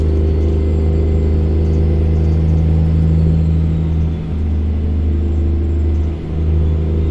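A Mack R700 truck engine in American Truck Simulator drones steadily with a deep, loud rumble, holding a constant idle-to-cruise tone with slight dips, no voices over it.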